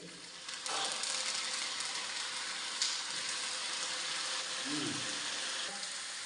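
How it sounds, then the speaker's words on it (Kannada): Curry leaves hit hot oil in a cooking pot while teachers prepare a meal at a Kannada school, giving a loud, steady crackling sizzle that runs the whole time with only faint background noise. "ಈ ಕರಿಬೇವನ್ನು ಹಾಕ್ತಾ ಇದ್ದೀವಿ"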